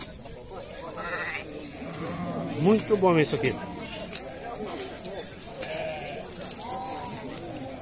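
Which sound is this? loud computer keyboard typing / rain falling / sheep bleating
sheep bleating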